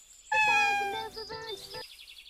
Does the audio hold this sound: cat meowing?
yes